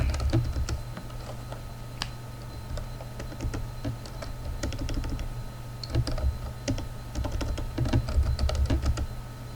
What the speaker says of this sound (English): we need to type the password, the correct password